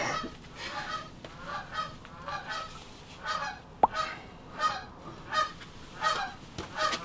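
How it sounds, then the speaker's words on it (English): Geese honk repeatedly at a moderate distance near a climbing crag, a steady series of nasal calls in irregular bursts with a sharp click partway through. "Good geese ambiance."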